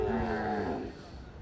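A Kangayam cow at the Kangayam cattle market gives a low, drawn-out moo that fades after about a second, close and fairly quiet.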